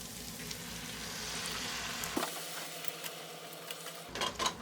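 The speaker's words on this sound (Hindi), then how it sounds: "पर्पस फ्लावर को फ्राई करते हुए मुझे 5 से 7 मिनट हो गए हैं" All-purpose flour and chicken frying together in a pan make a steady, close sizzle that dips briefly midway, then returns with a few quick stirring clicks near the end.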